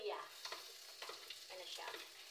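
Ginger frying in a pan for dinner, a soft, steady sizzle with light stirring scrapes, faint and without talk.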